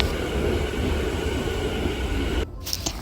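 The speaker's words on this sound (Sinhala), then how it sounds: "මෙන්න මේ ට්‍රේන් එකේ තමයි මම යන්නේ." A Japanese passenger train runs with a steady loud rumble and rail roar heard from inside the car, then the sound drops abruptly near the end, leaving quieter scattered noise.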